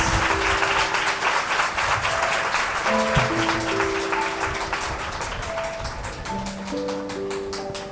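A congregation at a Thursday night worship meeting claps loudly in a thick, continuous burst that slowly tapers, while scattered keyboard notes ring out over the applause.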